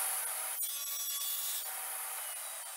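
Hand saw cutting a miter in wood for a fish tank stand, a steady, close rasping stroke with faint texture and no talking.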